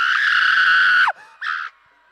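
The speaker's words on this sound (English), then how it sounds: "You want to make a scream?" Loud crowd screams at a carnival launch event in Grenada's National Stadium: one sustained shrill scream of about a second breaks off, followed by a shorter second burst, then quiet.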